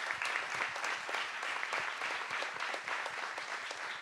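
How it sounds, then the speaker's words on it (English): Summit audience applause, steady and dense clapping from a crowd that continues evenly throughout with no pauses. "just a round of applause for Mary"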